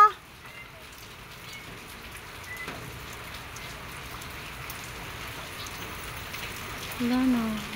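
Steady light rain patters continuously at an even level, with a brief soft tonal sound near the end.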